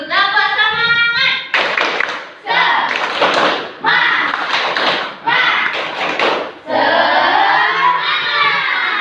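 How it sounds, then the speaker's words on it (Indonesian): A school class performs a rhythmic spirit clap, bursts of loud crowded clapping in patterned rounds that alternate with children chanting together in chorus. "supaya semangat dulu, tepuk semangat dulu"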